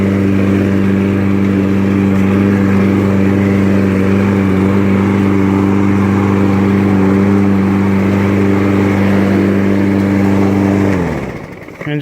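A Toro 22-inch Smartstow Recycler lawn mower engine running loud and steady close by, with a constant droning hum that cuts off sharply near the end.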